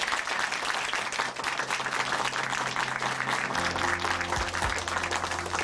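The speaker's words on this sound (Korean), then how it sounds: "응원의 박수 보내드리겠습니다" Applause of encouragement from a church congregation at Chuncheon Hanmaum Church after a testimony, a steady dense wash of clapping throughout, with a low sustained musical tone entering near the end.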